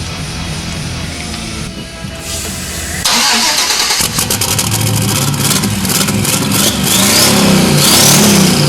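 Turbocharged 5.3 LS V8 swapped into a 1992 Chevrolet Silverado cranks and fires, then revs hard in loud, close bursts that rise and fall over a steady rumbling idle, with no talking.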